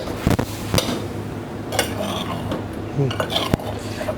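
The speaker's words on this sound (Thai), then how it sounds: "มากะทิแตกมันใส่พริกลงไปก่อน" Chili paste is stirred into simmering coconut cream in a pot for a Thai red curry with pickled bamboo shoots, with sharp metal spoon-on-pot knocks and scrapes at irregular intervals over a low bubbling background.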